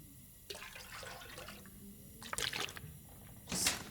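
In the survival video game The Long Dark, toilet water is collected in faint, short watery splashes and trickles, with a louder sloshing burst near the end.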